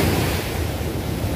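Waves wash continuously onto the shore at Bang Saray Beach near Sattahip at sunset, a steady broadband surf roar with some wind buffeting the microphone and no voices.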